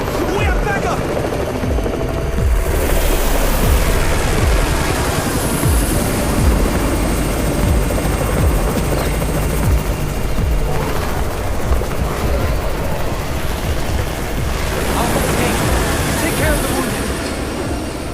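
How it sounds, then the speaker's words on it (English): A helicopter in the mobile game Undawn drones loudly and steadily overhead with a constant rotor roar, mixed with other rumbling game sounds throughout. "It's the Raven's chopper! We have backup!"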